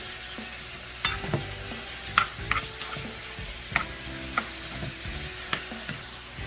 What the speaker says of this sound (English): So I'm sauteing this separately so these can go ahead and get cooked